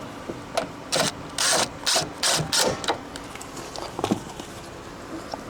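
Ratchet tightening grab handle bolts inside a 2024 Toyota Land Cruiser, five or six quick clicking bursts up close, then quieter scattered ticks and faint handling noise.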